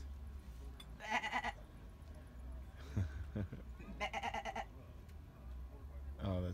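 Leash-trained goats at a bus-conversion camping gathering let out two clear, wavering bleats a few seconds apart, with a final one starting at the end, while people talk and move about nearby.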